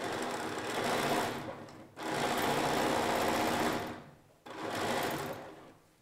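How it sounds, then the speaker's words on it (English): Sewing machine stitching quilt cushion patchwork seams in three loud, sustained whirring runs, close up, with short pauses between them and no talk. "we're going to sew that to that, right sides together and then to the machine"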